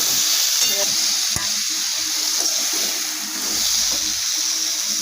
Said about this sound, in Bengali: ভালো করে হালকা লালচে লালচে করে ভাজতে হবে